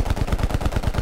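Rapid automatic gunfire from a Call of Duty game, a tight rhythmic string of loud shots about ten per second sustained without a break.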